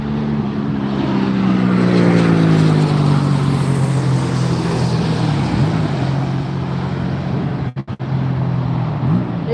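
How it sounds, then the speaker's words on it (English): A Gulfstream jet comes in to land in a strong crosswind at Las Vegas, a loud, steady engine roar with a tone that slowly drops in pitch, continuous throughout apart from a brief dropout near the end. "And here comes the Gulfstream"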